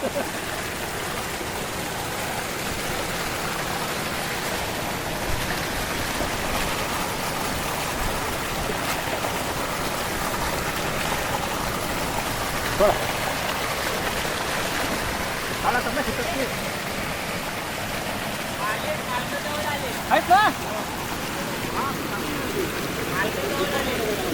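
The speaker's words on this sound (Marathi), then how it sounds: "पाऊस पण जबरदस्त चालू होता" Continuous dense monsoon rain roar in a Konkan village, steady and loud throughout, with faint occasional voices and small knocks underneath.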